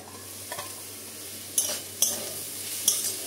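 Pieces of green banana fry slowly in a covered pan over a lowered flame. A quiet, low sizzle is broken by a few sharp metallic clinks of a utensil.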